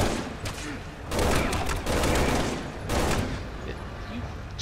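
Gunfire in the video game Resident Evil 6, several bursts of rapid shots in quick succession with short gaps between, loud and close, under a faint game background.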